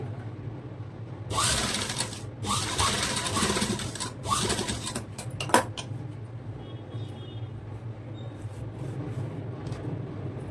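A sewing machine runs in several short, close bursts while stitching darts on a princess cut blouse at night. Each bursts rattles briefly, then gives way to quiet room noise and a light clack.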